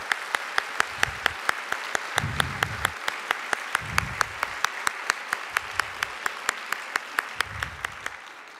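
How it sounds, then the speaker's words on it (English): Audience applause at a university lecture, heard as many hands clapping in a steady, fairly close patter for the whole stretch, with a few low thumps scattered underneath and no voices. "Please give a round of applause for this generous gift."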